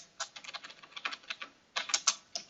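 Fingers type on a computer keyboard, a quick irregular run of crisp key clicks in short bursts with a brief pause in the middle, close and alone.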